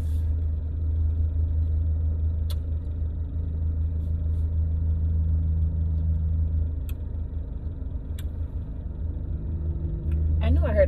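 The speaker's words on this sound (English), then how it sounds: "knew I heard a truck." A truck with side-mounted exhaust pipes rumbles past close by, a steady low engine drone swelling slightly toward the end, with a few faint clicks over it.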